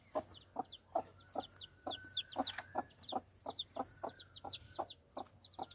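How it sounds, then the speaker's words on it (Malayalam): A hen and day-old chicks cluck and peep nearby, with soft low clucks keeping a steady rhythm under a constant stream of high, thin cheeps. "ഇതെല്ലാം എൻ്റെ കോഴിക്കുട്ടികളാണിത്"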